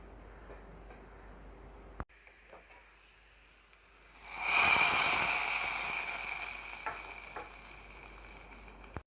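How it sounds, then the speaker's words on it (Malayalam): Spices for tempering a curry hitting hot oil, a quiet room with a sharp click, then a sudden loud sizzle that swells and slowly fades, with a few small knocks. "ഇനി ഇറക്കി വെച്ചിട്ട് ഒന്ന് താളിച്ചിടാം"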